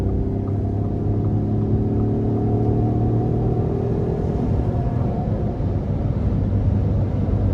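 A 2023 Ford F-150 Lariat PowerBoost hybrid pickup accelerates on the road, heard from inside the cab as a steady low engine and road rumble with a rising hum, with no voices over it.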